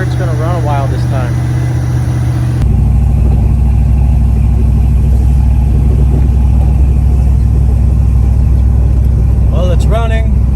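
A 1969 Dodge Dart engine idles with a steady, loud, low rumbling hum that thickens after a few seconds. Brief human voices sound faintly at the start and near the end.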